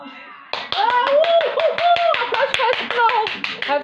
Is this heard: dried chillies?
no